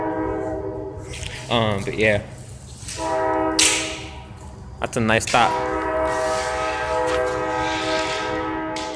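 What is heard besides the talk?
train passing and sounding its horn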